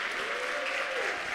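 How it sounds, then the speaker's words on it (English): Brief burst of steady audience applause at a community college employee excellence awards ceremony, a dense wash of clapping from a full room with a faint voice underneath. "Give yourselves a round of applause."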